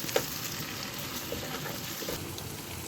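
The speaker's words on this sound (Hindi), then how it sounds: "अब इसे मिक्स करूँगी और साथ ही मैं इसमें करी पाउडर डाल दूँगी" Sliced tomatoes and curry powder being stirred in a hot frying pan for a quick karela, onion and lamb curry, a steady close sizzle with soft scraping stirs, no talk.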